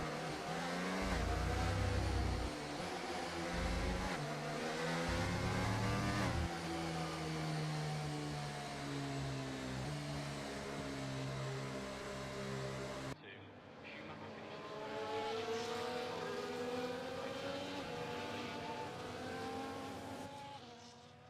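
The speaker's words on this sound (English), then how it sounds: "the cars take their positions on the grid" F1 race cars from the F1 24 game idle and rev as they settle onto the Imola Grand Prix grid, a steady layered engine drone with a commentator's voice talking over it throughout.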